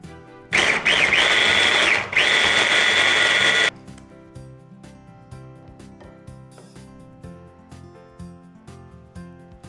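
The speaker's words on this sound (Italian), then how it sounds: "in ultimo tritiamo le mandorle, che qui avevo già una parte in farina, una parte intere, quindi frullo tutto insieme, sempre con 50 g di zucchero" A blender grinds almonds, part whole and part already ground, together with 50 g of sugar. Two loud whirring bursts are split by a short dip, then cut off and give way to soft background music.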